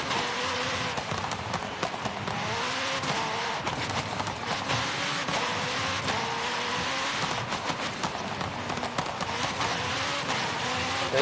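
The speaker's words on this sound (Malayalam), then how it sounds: "എനിക്ക് എൻ്റെ എക്സോസ്റ്റ് ഭയങ്കര ഇഷ്ടം കേട്ടോ. നന്നായിട്ട് പൊട്ടണുണ്ട്." A fully modified McLaren racing in Forza Horizon 5 drones steadily, its engine note rising and falling, with sharp exhaust pops and crackles scattered throughout at a constant loud level.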